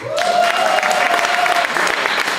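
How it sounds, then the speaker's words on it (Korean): Loud, steady applause from an audience at a celebration event where a singer performs, a dense wash of clapping lasting throughout, with a brief sustained vocal tone over it at the start. "박수 한번 주세요."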